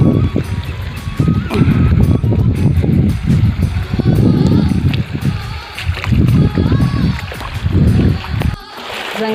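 Borewell water gushes into a paddy field at rice-transplanting time, a loud, steady rush of splashing that lasts throughout, with a voice now and then.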